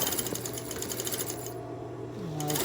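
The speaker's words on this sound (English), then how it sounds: "I start in the middle, and I back stitch here." A sewing machine back stitching a pleated fabric face mask, a steady rapid mechanical whir with the needle's fast rhythmic chatter, briefly slowing and then resuming.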